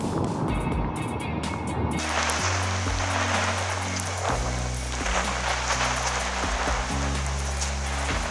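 Rain falls steadily over floodwater beside a pitched tent, a constant dense patter with a low droning hum underneath.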